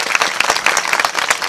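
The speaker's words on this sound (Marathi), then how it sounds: "जोरदार महाराजासाठी टाळ्या वाजवा सर्वांनी." An audience claps for a kirtan performer at an annual devotional week gathering, a dense, steady burst of applause from a crowd filling the whole moment, close and loud with no talk over it.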